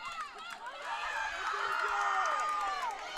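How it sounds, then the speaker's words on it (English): A crowd at an archery collegiate target nationals event cheers and whoops loudly, a swelling roar of voices with shrill shouts and some clapping that builds and holds for several seconds. "Listen to that crowd go wild."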